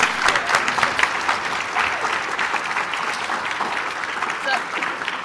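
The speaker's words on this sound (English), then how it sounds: "So give it a clap" Loud, steady applause from a conference audience after a higher education plenary panel on teaching and learning, with continuous dense clapping and no break throughout.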